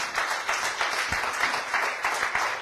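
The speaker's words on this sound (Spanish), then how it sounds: "Denle un fuerte aplauso al Señor" A church congregation claps together in a steady, moderately faint wash of applause, no voices over it.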